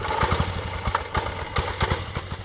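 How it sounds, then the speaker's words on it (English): An 8-horsepower engine runs on an early Massey Ferguson hydrostatic garden tractor, a close, steady putter with uneven beats and little change in pitch. "this Massey Ferguson garden tractor has been getting the job done for 4 generations of the Whistler family"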